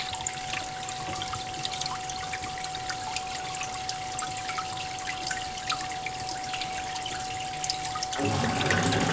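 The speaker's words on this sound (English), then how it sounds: "the RO water, it's still filling" Steady rushing RO water pouring continuously into an aquarium batching reservoir, with a constant hum underneath and the flow growing louder near the end.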